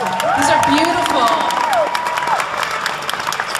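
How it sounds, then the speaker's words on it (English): An audience at a Calgary Comic Expo panel gives sustained applause and cheers, a crowd of clapping hands with whoops, while voices carry over the noise. "so big round of applause for him"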